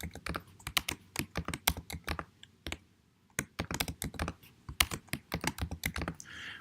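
Fingers type a password on a computer keyboard in quick, uneven bursts of close, crisp key clicks, with a short pause in the middle and no talking.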